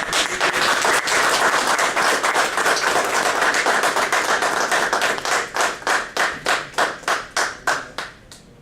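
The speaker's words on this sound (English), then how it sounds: "A round of applause." A crowd applauding loudly, dense clapping at first, then thinning into a few slower, separate claps that fade out.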